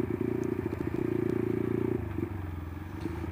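A modified 2005 Suzuki Satria FU bored out to 230cc rumbles while being ridden, giving a loud, dense engine drone that drops to a lower, softer idle-like tone partway through.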